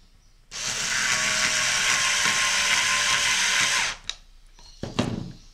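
A power screwdriver drives a screw into a handmade key holder in one loud, steady whirring burst of about three seconds, followed by a few short clicks and knocks.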